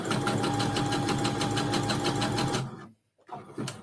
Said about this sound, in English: put the presser foot back down and keep sewing